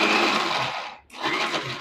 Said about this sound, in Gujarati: જો મિક્સર ચાલુ કરી દીધું।